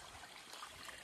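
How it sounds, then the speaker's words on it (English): The Gandum River Creek flows steadily, a continuous rushing and trickling wash of water close by, with no voices. "Here we are at the Gandum River Creek,"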